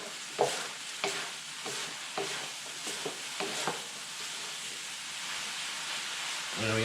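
Lobster Singapore noodles stir-frying in a hot wok with a splash of sesame oil, giving a steady close sizzle broken by sharp scraping and tossing strokes.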